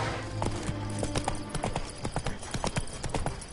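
Horse hooves trot in The Witcher 3: Wild Hunt, a close, regular clip-clop run of sharp beats that lasts the whole clip, with a low background hum at the start.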